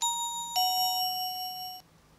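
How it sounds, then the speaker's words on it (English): A DOME siren's bell tone sounds as a bright electronic ring that strikes twice in a row, with the second strike holding steady before cutting off cleanly. Nobody speaks. "Here is bell one."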